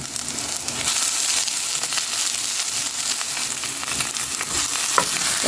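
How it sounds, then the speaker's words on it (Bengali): Chopped shrimp fries with onions, coriander, turmeric, chili powder and salt in a pan, a loud continuous close sizzle with scattered scraping and clicking from stirring, no voices. "মশলা পেঁয়াজের সাথে মাছটাকে একটু ভেজে নেব"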